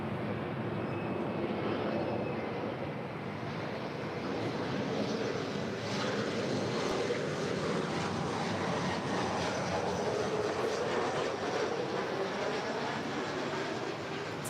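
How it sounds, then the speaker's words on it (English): A seven-year-old United Express Embraer E175 LR jet arriving at LAX from Salt Lake City, its broad engine roar steady and fairly close throughout the whole stretch, with no voices heard. "This next arrival is United Express Flight 5774 coming in from Salt Lake City."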